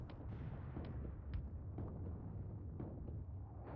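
Distant artillery shells from a friendly fire mission land far off in a World War II video game set on the Mius Front, a string of faint, muffled booms and low rumbles scattered through a quiet battlefield background.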